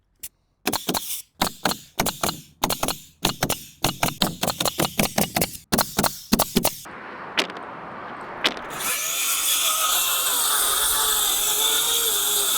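A circular saw cuts lumber scrap for a building gable, heard as a long run of sharp, rapid bursts followed by a few isolated cracks, then a steady loud whirring roar at close range.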